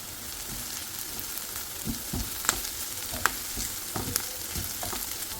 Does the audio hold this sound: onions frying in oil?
yes